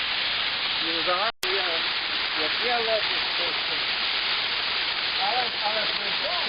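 Mar'yanchyn waterfall, a 12-metre main drop with lower 8- and 4-metre cascades, rushes in a steady broadband roar close by, with a brief break about a third of the way in and faint voices or birdlike chirps over the water.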